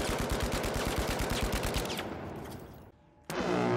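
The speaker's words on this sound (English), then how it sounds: "The recoil path of every gun is different depending on the distance at which you're shooting from." Rapid automatic gunfire in The Finals, a sustained loud burst of shots for about two seconds that trails off into reverberant echo, a brief near-silence, then a sharp loud resumption.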